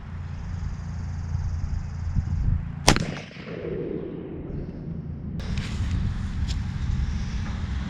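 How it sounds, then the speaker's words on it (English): A LeMat revolver fires its shotgun barrel loaded with buckshot outdoors, one loud sharp blast followed by a rolling echo and a low background rumble. "LeMat Revolver, shotgun,"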